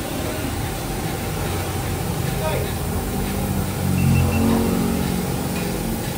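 A CFMOTO 675NK motorcycle fitted with a new, longer aftermarket muffler idles with a deep, bassy rumble, then rises briefly in a rev before settling back, while people talk nearby.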